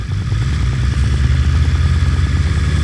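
A BMW S1000RR motorcycle engine in race mode drones steadily under load, loud and close, without speech.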